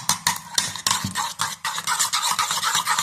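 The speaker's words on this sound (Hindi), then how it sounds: "अच्छी तरह मिक्स हो जाए ब्लैक पेपर और नमक" Salt and black pepper being stirred into a beaten egg and noodle omelette mixture in a bowl, with a rapid series of close, light clinks and scrapes of a utensil against the bowl.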